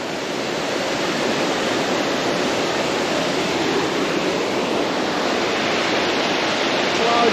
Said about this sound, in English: You're probably not gonna be able to hear much over that water